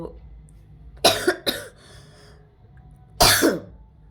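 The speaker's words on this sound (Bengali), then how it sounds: "আমার সত্যি কাশি সেটাই হচ্ছে" A person coughs in short harsh bursts: a quick pair of coughs, then a pause of quiet breathing and a single louder cough, close up in a quiet room.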